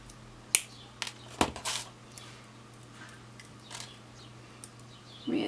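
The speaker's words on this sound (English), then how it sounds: "We're going to snip it." Thin wire being snipped with cutters while making a shawl pin, giving a few sharp, quiet clicks in close succession at the start, then a faint fumbling noise near the end.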